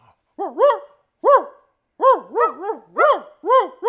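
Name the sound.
person imitating a dog barking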